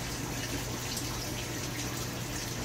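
Water poured and rinsed over coconut husk at a kitchen sink, a steady unbroken rushing splash close up with no voices.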